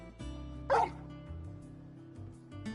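A dog barks once in Final Fantasy XVI, a single loud, close bark standing out against a steady hum of game ambience, with no speech over it.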